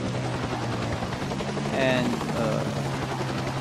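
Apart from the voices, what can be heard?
AH Air Cobra helicopter engine from a video game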